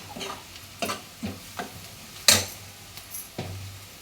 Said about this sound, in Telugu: ఉల్లిపాయ, పచ్చిమిరపకాయలు ద్వారగా వేగినవి. ఇందులో ఒక 1/2 స్పూను పసుపు వేసి